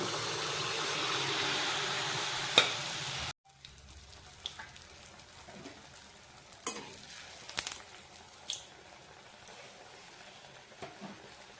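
Palm malpua batter is fried in a pan, first as a steady loud sizzle that cuts off abruptly, then as quieter crackling and spattering with scattered pops, close and with no talk.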